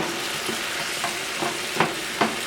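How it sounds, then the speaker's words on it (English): Crushed tomatoes with peppers and vegetables sizzle in a pan for chicken cacciatore while a utensil stirs them in a handful of scraping strokes, close and alone with no talk. "We're going to stir this up"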